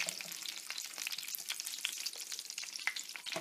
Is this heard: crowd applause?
no